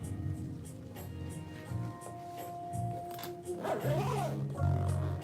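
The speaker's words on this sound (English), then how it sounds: "The zipper's working." The zipper of a keyboard gig bag packed with wires and plugs is pulled shut, a close rasping zip rising near the end amid rustling and handling of the bag.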